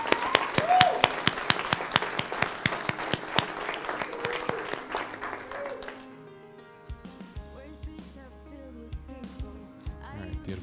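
Rhythmic clapping from a small group at an evening gathering, sharp even claps for about six seconds that then thin out as music with low tones takes over, with faint talk underneath.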